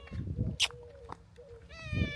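A cat meows a few times in a quiet indoor space, the drawn-out calls rising clearly above faint background noise, with a brief sharp click near the start.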